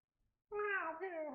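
A voice imitates a cat's meow cry, one drawn-out wavering wail rising and falling, close and fairly loud with no other sound around it.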